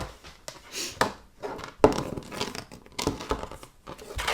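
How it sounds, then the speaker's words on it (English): Card stock is cranked through an embossing folder, giving a close series of irregular crinkling, crunching and rolling sounds with small clicks, fairly quiet and without talk. "just run that through the embossing folder"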